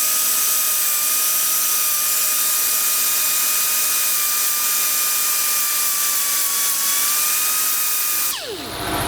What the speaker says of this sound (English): you just want to file down the bottom here where the burrs are